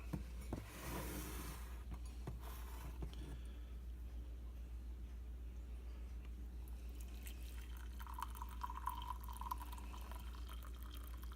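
Liquid dripping from pressed honeysuckle flowers: faint, sparse drips and trickles over a steady low hum, with a brief burst of watery splashing near the start and light trickling toward the end.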